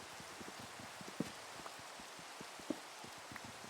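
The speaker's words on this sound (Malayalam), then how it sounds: "നല്ല മഴ" Steady rainfall in a Minecraft world at night, a soft continuous hiss of drops with faint scattered ticks and two brief louder clicks, no voices over it.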